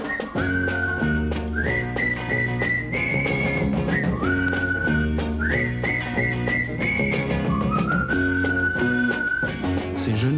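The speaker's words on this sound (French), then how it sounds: "on lui siffle un petit air qu'il connaît plus ou moins bien pour l'appeler" A boy whistles a short, familiar tune among apartment blocks as a signal to call his friends, the bright melodic phrases repeating steadily over a continuous musical background.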